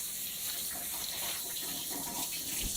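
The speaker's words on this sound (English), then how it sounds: "I'm going to go ahead and rinse my my pins. Just give them a quick rinse." Running water from a tap splashes steadily over brass tumbler pins being rinsed in a sink, a continuous close hiss and patter with no talking.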